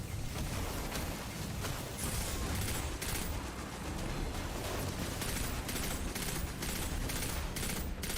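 Rapid bursts of automatic gunfire crackle continuously in a Destiny 2 firefight, dense and loud throughout with repeated volleys layered over a steady rumble.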